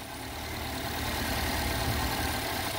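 A Subaru 2.4-litre turbocharged car engine idling, a steady, even broadband rumble held at a constant level close by for the whole stretch, with no voices.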